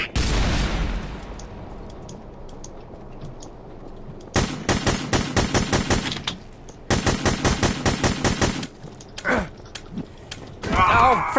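Gunfire in The Hidden, opening with a loud blast that decays, then two sustained bursts of rapid automatic shots after a quiet stretch, followed by scattered fainter noises.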